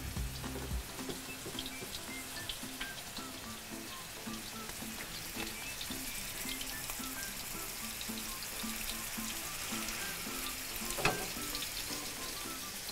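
Hamburger patties sizzle and crackle in a hot pan, a steady, fairly quiet frying hiss with scattered pops and no talking.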